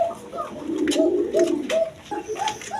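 Beauty pigeons cooing close by, a string of soft repeated coos in uneven rhythm over low background murmur, with a few sharper rustling sounds.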